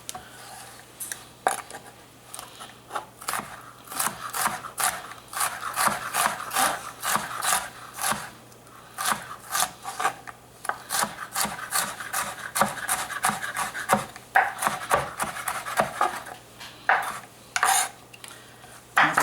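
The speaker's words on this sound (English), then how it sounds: "Quick rough chop, especially here on the end." A sharp knife rough-chopping vegetables for turkey dressing on a wooden cutting board, close and steady with rapid irregular thuds and scrapes going on throughout, no talking.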